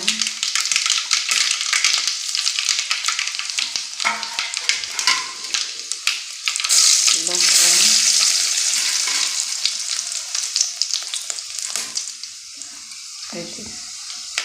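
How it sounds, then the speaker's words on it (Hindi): Whole spices and tempering crackle and sizzle in hot oil, a loud, busy frying hiss with scattered pops and stirring scrapes, fading somewhat toward the end. "तेल गरम हो गला मैं फुटन पकाउची"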